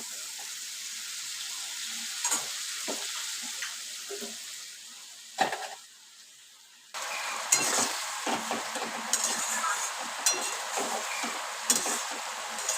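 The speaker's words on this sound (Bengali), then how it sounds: "মশলাটা কষাই যতক্ষণ না তেল ছাড়বে।" A spice paste is stirred and fried in oil in a pan, giving a continuous close sizzle broken by scraping spoon strokes, with a brief pause midway.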